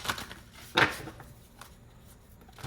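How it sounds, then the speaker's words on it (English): Tarot cards being shuffled by hand, a few short papery riffles and slaps, the strongest burst near the start, close and fairly quiet with no talking. "Let me shuffle that better."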